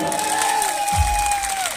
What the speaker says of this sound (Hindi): एक बार सबको जल्द हाथ ला ऊपर उठा दो और जोरदार ताली बजा दो